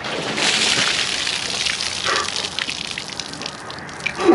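Water gushes and splashes out of cheap fishing waders by Lake Erie, a loud rushing pour that tapers into trickles and drips, with one sharp knock at the end.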